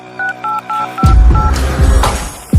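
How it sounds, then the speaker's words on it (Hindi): Phone keypad tones beep in a quick series of short, even pulses as a call is dialed, followed by louder background music with heavy bass thumps. "जरा पुष्पा के पास फोन लगाओ तो।"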